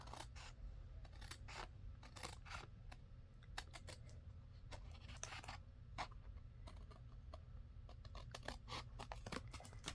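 Scissors snip along paper edges while trimming an envelope craft piece, a steady run of quick, close, crisp cuts repeating over a low background hum.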